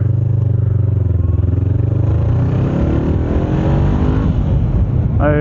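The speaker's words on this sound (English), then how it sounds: "I currently have a Leo Vince exhaust on my bike." A Honda CBR 500R motorcycle fitted with a Leo Vince GP Corsa exhaust drones loudly and close on a highway, its engine note climbing steadily as it accelerates, with no talking.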